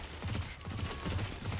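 Rapid gunfire in the Destiny 2 video game during a competitive zone-control match, repeated bursts of shots in a steady rhythm, fairly loud and up close with no talk over it.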